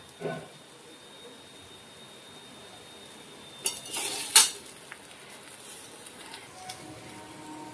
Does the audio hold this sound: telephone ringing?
no